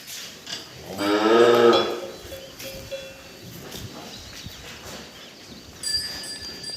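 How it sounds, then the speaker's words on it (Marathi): A single long, deep moo from a nearby cow, followed by quieter farmyard background noise. "त्या भागामध्ये बैल आहेत"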